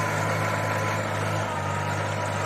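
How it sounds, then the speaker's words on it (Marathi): A heavy tractor engine runs steadily up close while pulling a three-foot bed-former in a field, a low droning rumble with a constant hum and no talking. "हे बघा ट्रॅक्टर चालू झाला पुन्हा बेड ओढण्यासाठी"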